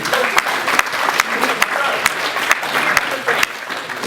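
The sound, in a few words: applause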